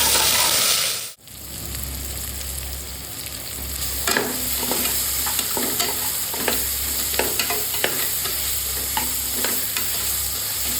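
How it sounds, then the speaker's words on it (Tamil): Ginger and garlic sautéing in a pan for mushroom biryani produce a steady close sizzle, punctuated by regular spatula scrapes and taps after a brief pause near the start. "நல்லா வதக்கி விடுங்க."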